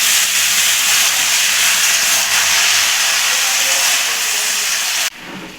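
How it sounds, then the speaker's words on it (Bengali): Vegetables poured into hot oil tempered with radhuni and five-spice give a loud, steady, dense sizzle that fills the whole stretch and then drops off abruptly near the end, with no talking. "ফোড়নটা আমার গরম হয়ে গেছে, এখন সবজিগুলো ঢেলে দেবো।"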